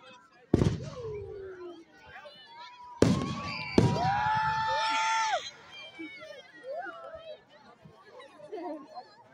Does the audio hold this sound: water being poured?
no